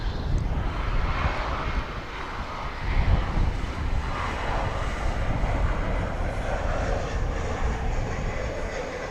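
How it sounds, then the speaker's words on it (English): A Boeing 757 jet, a UPS flight, arriving at DFW Airport produces a loud, steady broadband engine roar that holds for several seconds with a slight swell partway through, and no talking over it. "it looks like we've got another 757 coming in"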